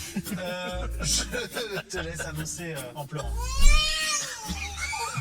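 A human voice imitates a cat's meow, a drawn-out wavering mew rising and falling, set among people talking and laughing close to the microphone.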